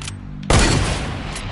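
Video game gunfire bursts in suddenly after a low hum, a loud dense volley that rings on for about a second.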